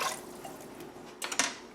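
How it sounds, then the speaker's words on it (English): Water from a tomato can pours into a pressure cooker for chana masala, a faint trickle and then two brief splashing gushes at the end. "I'm going to fill it up 2 cans of water, so 2 of your tomato cans"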